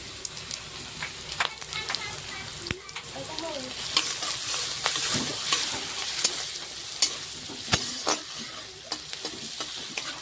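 Potatoes fry in a pan with turmeric and salt, sizzling steadily up close while a utensil stirs and scrapes in irregular clinks and knocks, no voices.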